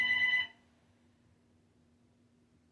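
A telephone rings once, a short bright electronic tone lasting about half a second, followed by near silence with a faint steady hum.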